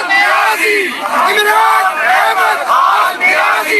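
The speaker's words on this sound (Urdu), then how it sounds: "یہ دیکھیں لوگ دھرنا دیے بیٹھے ہیں اور وہاں پر نعرے لگا رہے ہیں۔" Crowd at a sit-in protest in Pakistan chanting slogans in loud unison, rhythmic rising and falling call-and-response shouts repeating several times, close and forceful.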